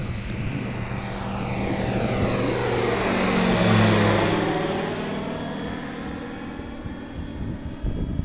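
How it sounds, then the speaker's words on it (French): A light propeller aircraft takes off from an airfield runway in Lorraine, its engine note rising and sweeping past in a loud Doppler arc before fading with distance. "Là il se met tout droit vers la piste et il va décoller maintenant tout de suite."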